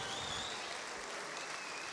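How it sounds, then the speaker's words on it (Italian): An audience at a university physics lecture applauds, a dense, even patter of clapping that holds steady for a couple of seconds, fairly soft and distant. "L'applauso a questi qui."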